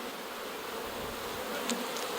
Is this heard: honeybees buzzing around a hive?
yes